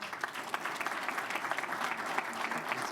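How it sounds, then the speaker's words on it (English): Sustained applause for a school district President's Award recipient at a board meeting, a steady dense patter of many hands clapping at moderate volume with no one speaking over it. "please give a round of applause for our President's Award recipient, Oscar Lucero."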